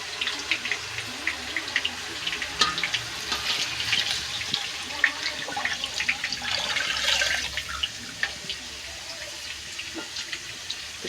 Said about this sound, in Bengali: আমি এখানে এখন জলটা দিয়ে দেবো